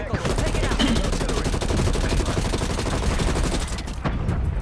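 Rapid automatic gunfire in Call of Duty Black Ops Cold War, loud close bursts of machine-gun shots in a fast steady rhythm that thins out near the end.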